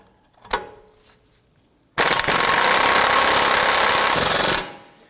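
Impact gun with a socket hammering an 18mm nut off the top of a front steering rack on a 2003-2014 Volvo XC90, preceded by a single sharp click, then a loud continuous rattling burst lasting under three seconds before stopping.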